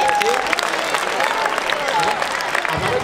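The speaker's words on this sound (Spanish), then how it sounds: "un aplauso para esos padres" An audience at a youth basketball team event applauds the parents, a dense crowd clapping at moderate volume with murmuring voices mixed in throughout.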